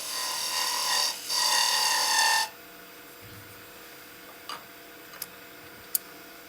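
A woodturning tool is sharpened on a grinder, giving about two seconds of loud harsh grinding broken by a brief pause, then it stops abruptly, leaving quiet room tone and a few faint ticks and clicks.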